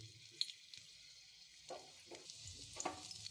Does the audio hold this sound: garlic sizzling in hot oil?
yes